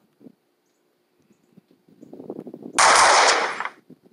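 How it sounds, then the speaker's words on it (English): Goo shot from a weapon in a Minecraft mod arrives as a sharp, loud hissing burst lasting under a second, preceded by soft scattered game clicks and pops. "I'm gonna shoot you with the goo here"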